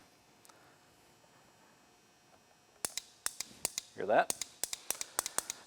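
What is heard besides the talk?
brand new ATV starter solenoid clicking when energized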